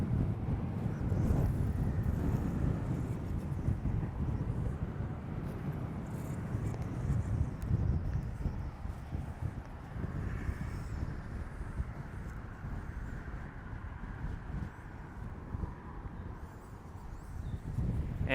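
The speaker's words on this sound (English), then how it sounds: "I'm sorry in advance if the wind is kind of blowing this whole thing out" Wind buffeting a microphone outdoors at the 7 Mile Bridge while fishing, a loud continuous low rumble and roar that fills the whole stretch with no speech.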